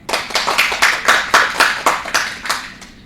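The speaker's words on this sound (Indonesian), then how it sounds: "Boleh beri tepuk tangan?" Students in a classroom clap together in a quick, even rhythm, about a dozen crisp, close claps in unison over a few seconds, fading at the end.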